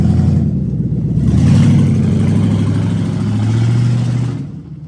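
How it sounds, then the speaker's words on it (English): A Ford Police Interceptor engine with its catalytic converters stolen revs loud and close, a harsh, raspy uncatalysed exhaust roar that swells and holds before dropping away, with no talking over it. "This is what it sounds like when they steal the converters"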